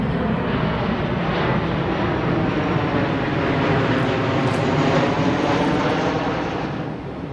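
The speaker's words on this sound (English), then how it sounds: "we got a battle with the planes flying over" A loud, continuous roar of an airplane passing overhead fills the whole stretch, swelling broadly and fading slightly at the end.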